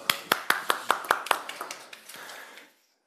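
A small audience at a tech conference talk on API governance claps briefly: about a dozen distinct, close hand claps in a quick rhythm that thin out and fade over under three seconds.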